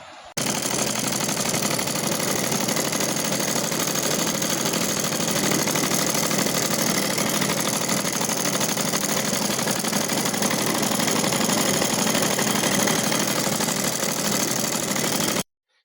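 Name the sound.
sewing machine stitching a pajama waistband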